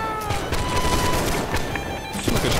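A ragged volley of musket gunfire in the line-battle game Holdfast: Nations At War, many shots crackling together under battlefield din, dense and sustained rather than single cracks.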